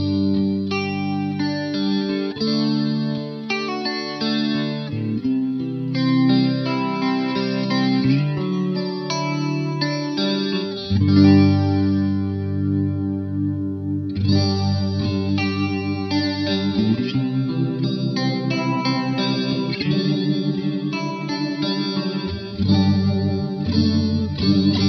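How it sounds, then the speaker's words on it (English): An electric guitar plays through the rotary speaker effect of a Poly Effects Beebo pedal, its sustained chords swirling and wavering continuously, with no talking. "here's how the rotary speaker sounds"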